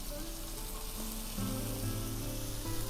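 Mutton keema frying in oil in a pan with a steady, quiet sizzle and a low hum in the background, heard up close with nobody talking.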